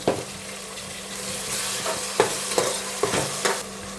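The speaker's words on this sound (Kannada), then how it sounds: "ಅವರೆಕಾಳು ಸ್ವಲ್ಪ ಫ್ರೈ ಆಗಿದೆ ನೋಡಿ ಟೊಮೊಟೊನ ಹಾಕ್ತೀನಿ ಈಗ ಟೊಮೊಟೊ ಬೇಯಬೇಕಲ್ವ" Field beans and tomatoes fry in a pan with a steady, close sizzle. A spatula stirs them, making four distinct scraping strokes in the second half.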